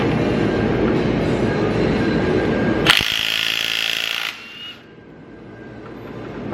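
A Milwaukee impact wrench with a socket works off a wheel on a Rumble Bee truck, a loud close mechanical whirring that bursts into a harsher rattling hammer burst midway before cutting off.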